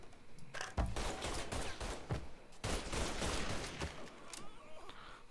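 Rapid bursts of gunfire from the Mafia III video game, dense and continuous with sharp repeated shots layered over one another, fairly loud throughout.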